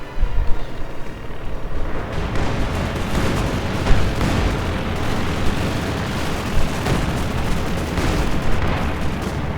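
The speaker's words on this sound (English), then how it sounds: "4 field guns here firing, though." Four field guns firing in the Company of Heroes 2 video game, loud and close, a dense wall of rumbling battle noise punctuated by repeated heavy booms, with no voices over it.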